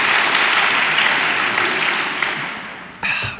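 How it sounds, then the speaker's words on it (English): Audience applause, dense and steady clapping from a crowd that fades slightly toward the end, with a brief sharper burst near the close. "I knew that was going to be an applause line."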